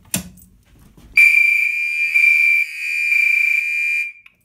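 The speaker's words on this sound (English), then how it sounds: "And to finish off the test, we're going to pull the alarm." A building fire alarm pulled during a board system test sounds as a loud, sustained electronic tone after a brief thump, holding steady for about three seconds with slight pulsing before cutting off abruptly.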